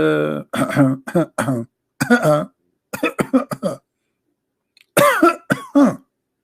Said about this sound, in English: should I cough more so people understand?